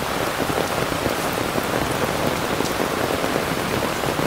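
Heavy rain pouring steadily onto a surface, a dense, constant patter with no pauses and no voices.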